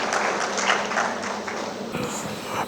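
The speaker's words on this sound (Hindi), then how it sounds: "जोरदार तालियों से स्वागत कीजिए" Audience applause at a spiritual session welcoming a speaker to the stage, a steady dense wash of clapping that carries on throughout and shifts slightly near the end.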